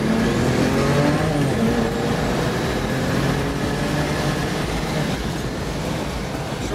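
A loud engine in a tuned BMW 335i with an N54 engine, around 440 wheel horsepower, pulls hard and revs up, the pitch climbing and easing through quick short-shifted gear changes, heard from inside the car.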